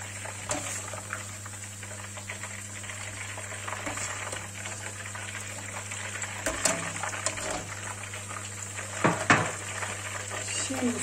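Sliced vegetables fry in oil in a pan, a steady hiss with occasional utensil scrapes and clinks against the pan, continuing under a person talking.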